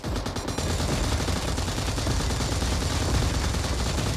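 Dense, continuous automatic gunfire in the mobile game PUBG Mobile, in a team deathmatch mode, loud and unbroken throughout with no speech.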